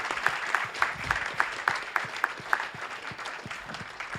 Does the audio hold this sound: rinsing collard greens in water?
no